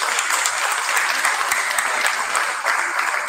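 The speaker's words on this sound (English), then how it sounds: "let us give Michael and Angela a loving and joyful round of applause" Wedding guests applaud a newly married couple with dense, continuous clapping from many hands filling the room at a steady level throughout.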